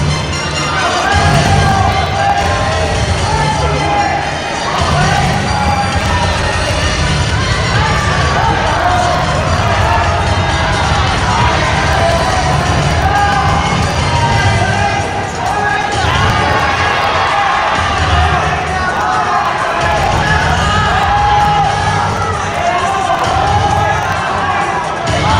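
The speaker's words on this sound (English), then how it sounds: "Come on, let's cheer them on." A large crowd at a senior elite gymnastics competition cheers and shouts steadily and loudly throughout, with children's voices mixed into the continuous roar.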